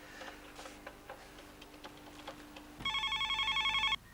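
A telephone rings in a home with a clear electronic double-trill ring, loud and close, after a quiet stretch of faint ticking and soft room noise.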